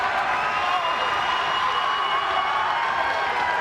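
A packed wrestling arena crowd roars in a continuous, dense wall of cheering and shouting that holds steady throughout at high level.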